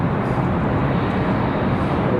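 A Boeing 777 airliner roars past at Raleigh Durham airport, a loud, steady, broadband jet rumble filling the air with no voices.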